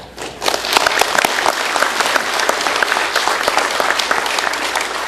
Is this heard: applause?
yes